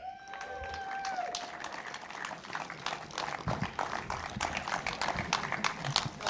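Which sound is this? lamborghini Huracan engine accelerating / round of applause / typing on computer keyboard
round of applause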